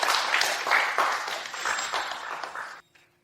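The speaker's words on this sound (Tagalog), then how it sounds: "Bigyan natin siya ng masigabong palakpak." A crowd gives Mr. Ethan Shen a round of applause, steady clapping lasting a few seconds and then cutting off sharply.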